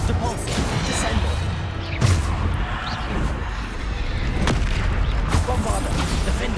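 Bombarda blasting spells explode repeatedly in Hogwarts Legacy combat, loud booming impacts with sharp cracks around two and five seconds over a dense, continuous battle din, with a voice calling out.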